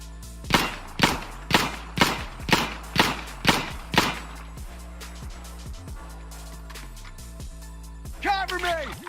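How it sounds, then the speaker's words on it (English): Nine evenly spaced pistol shots ring out at targets in Insurgency: Sandstorm, loud and sharp in the first half, followed by quieter clatter and a brief voice near the end. "So now let's go ahead and shoot our targets"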